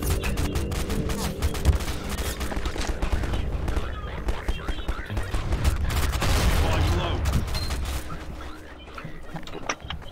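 Combine soldiers open fire in Half-Life 2, a dense, loud run of rapid gunshots and booming impacts that keeps going through the clip, with brief talk mixed in.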